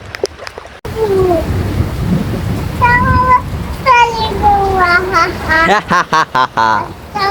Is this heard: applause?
no